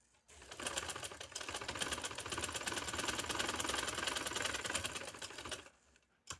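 A sewing machine runs steadily for about five seconds, stitching black cloth for a Quran cover, with a fast, even mechanical chatter that starts and stops abruptly.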